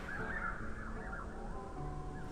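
Crow-like caws from birds in a Welsh garden, faint and distant, forming a few drawn-out calls over quiet outdoor ambience.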